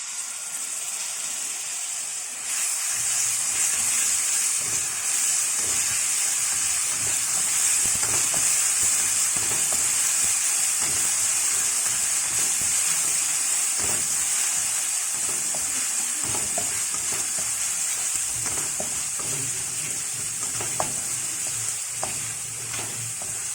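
Freshly ground onion paste sizzles steadily in a hot pan for beef meatballs in sweet soy sauce, with scraping stirs and bursts of frying crackle close by and no talking.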